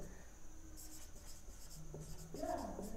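Pen or chalk writing on a board during a physics lecture on lens aberration, short scratchy strokes under a faint room background with no talking.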